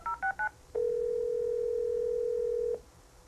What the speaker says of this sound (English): The number is automatically dialed and the hands-free speaker is activated.